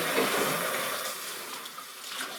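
Shower running in a mountain refuge, a steady hiss of spraying water that fills the short clip at a constant level with no talk.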